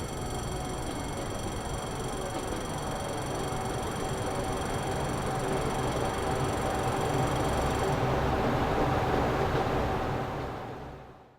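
Train running in the video game Transport Fever 2, a continuous loud rumbling roll with a steady high whine that drops away near the end before the sound fades out.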